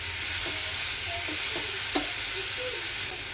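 Watermelon rind fries in oil with a continuous close sizzle, while a spoon stirs and taps against the pan in a few short knocks.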